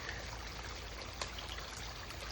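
Water runs steadily through a mini highbanker recirculating setup filled from five-gallon buckets, a constant close rushing trickle with no pauses and no speech.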